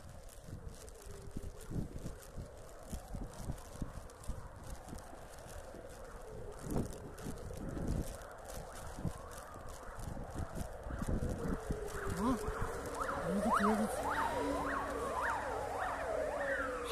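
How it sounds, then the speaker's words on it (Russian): Fire engine sirens wail on a winter street, their rising and falling tones growing louder and more layered as the vehicles pass nearby over steady wind and traffic noise. "Знаете, едут пожарные."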